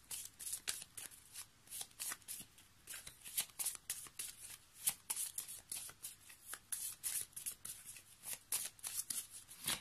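Angel oracle cards being shuffled by hand in rapid repeated riffles, a dense run of crisp papery flutters that continues steadily throughout, close and clear with no talking.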